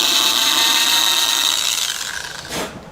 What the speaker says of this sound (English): I got my smallest drill bit